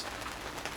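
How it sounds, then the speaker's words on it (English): Rain falls on a sailboat at sea near Menorca, making a faint, steady patter and hiss with no clear gaps. "there's rain coming through everywhere"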